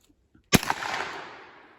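A single sharp gunshot fired from the hip at a can on a shooting range, close and loud, followed by a long ringing decay and range echo.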